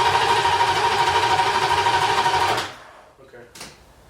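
An LS V8 swapped into a Nissan 300ZX idles loudly and steadily with a fast, even pulse for about two and a half seconds, then cuts out, leaving faint voices and a short clatter.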